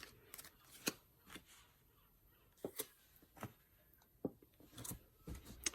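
Tarot cards being shuffled and drawn, a quiet run of soft flicking and slapping bursts spaced irregularly, some sharper snaps among them, close by with no talk.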